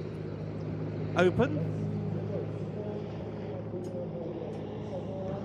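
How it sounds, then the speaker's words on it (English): An Mi-171 helicopter taking off at a military air show, a steady low rotor and turbine drone heard at a distance under a commentator's voice, with a brief louder burst partway through. "Off goes the Mi-171 with the rear"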